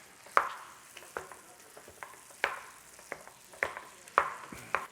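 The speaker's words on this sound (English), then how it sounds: "I'm just actually using that bacon fat to cook this beef in" Ground beef fries in bacon fat in a pan, a soft sizzle broken by repeated sharp scraping and stirring clicks at an uneven rhythm, close and fairly quiet with no talking.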